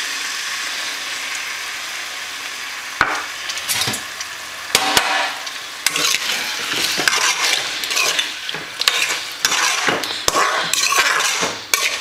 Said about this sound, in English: Sorry, the spoon makes a lot of noise.